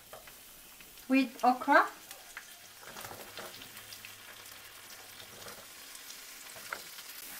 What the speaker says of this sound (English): adding a bit of oil. That's it. So I'm going to add the onion and the pepper